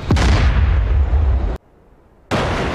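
A tank cannon fires in a video game, a loud close blast with a deep rumbling boom that cuts to near silence, then a second heavy burst of explosion noise returns.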